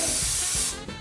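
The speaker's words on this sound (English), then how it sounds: "One of the first things you want to do is to spray a little lube in it" A short hiss of lubricant spray goes into a small home meat grinder before venison is ground. The burst is close and steady for under a second and then cuts off.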